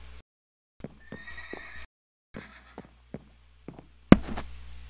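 A horse in a survival video game gives a series of short neighs and snorts with hoof knocks between them, ending in a louder sudden burst.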